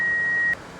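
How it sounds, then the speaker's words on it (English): A single steady electronic warning tone from an airliner cockpit in Microsoft Flight Simulator X, a thin continuous beep that holds for about half a second and then cuts off, leaving low cockpit hum. "What the hell is beeping at me like that?"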